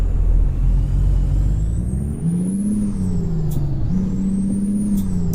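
International Prostar truck driving in American Truck Simulator, a steady loud diesel drone that rises and dips through gear changes, with a high whine on top and no talking.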